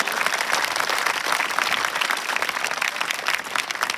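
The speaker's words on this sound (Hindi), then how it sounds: "जोरदार तालियां" A school gathering at GSSS Rojari in Gharsana, Rajasthan, bursts into loud applause welcoming the principal at her farewell; thick, continuous clapping from many hands runs steadily throughout.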